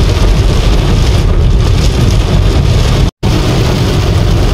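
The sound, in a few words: heavy rain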